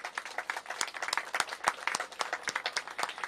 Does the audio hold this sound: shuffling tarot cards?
no